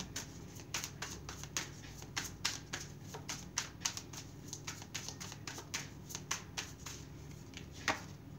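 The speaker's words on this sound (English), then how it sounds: "Just keep shuffling." Tarot cards are shuffled by hand in a quiet room, producing a steady run of soft, crisp riffling snaps close by, with no talking.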